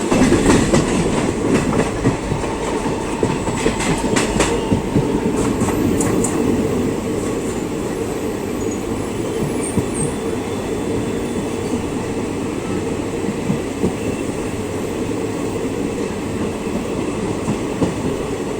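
Teesta Torsha Express 13141 rolls into Naihati Junction, heard from inside a sleeper coach. The rumble and rail clatter are heavier for the first several seconds, then settle into a steady, softer running drone.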